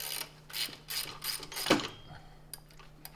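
A hand ratchet works loose a mounting bolt on a Subaru alternator in an engine bay, a run of quick close clicking strokes, then a short scrape and quieter knocks as the bolt frees.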